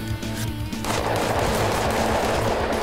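Rapid bursts of gunfire from the zombie battle simulator game Totally Accurate Battle Zombielator, loud and dense, with a continuous stream of shots building after the first second and no talk over it.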